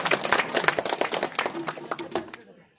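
An audience at a village music performance bursts into loud, brisk clapping for the singer, with voices mixed in, before the clapping quickly fades to silence.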